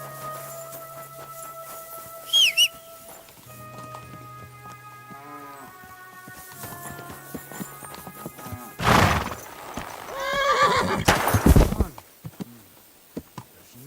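In Kingdom Come: Deliverance II, a horse whinnies loudly and snorts, and hooves clop nearby. Other game sounds with steady tones are mixed in.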